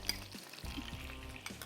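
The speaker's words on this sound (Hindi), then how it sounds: "थोड़ा सा लहसुन फ्राई होगा।" Garlic and curry leaves fry in a pan, giving a steady close sizzle with a few soft stir clicks over about two seconds, no talking.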